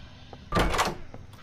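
A door opening in the horror video game Doors, a single short creaking, rumbling swing close and loud, lasting about half a second against quiet background.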